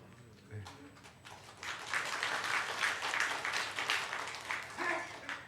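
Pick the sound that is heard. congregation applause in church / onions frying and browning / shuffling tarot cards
congregation applause in church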